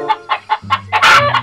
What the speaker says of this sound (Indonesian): ini hewan ayam